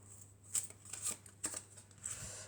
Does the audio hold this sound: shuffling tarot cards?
yes